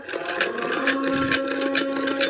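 An oiled hand-cranked sewing machine, converted from a treadle machine, runs with a steady close whirring hum and a faint rhythmic mechanical clatter, without pauses or voices.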